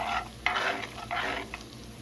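A spoon works tomato paste into a meat sauce for spaghetti, scraping and squelching in short bursts over a soft sizzle from the pan, heard up close and alone.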